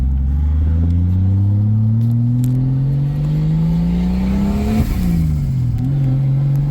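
A Mk3 car engine revs hard and climbs steadily in pitch, then abruptly hits fuel cut and drops back to a lower rumble, loud and close.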